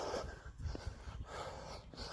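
A dog passes by with its walkers outdoors, giving close, breathy panting and snuffling sounds over steady low background noise, continuous through the short moment.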